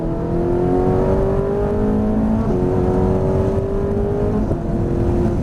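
A Ferrari 458 Italia engine roaring steadily as it accelerates, pitch climbing through the revs with a brief gear change, heard loud and close from inside.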